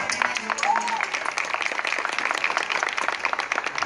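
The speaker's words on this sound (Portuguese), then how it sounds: "Uma salva de palmas pro Cristiano também" Crowd applause at an outdoor Christmas light festival concert, a dense, steady wash of many hands clapping throughout, fairly loud and near, with some voices and cheering mixed underneath.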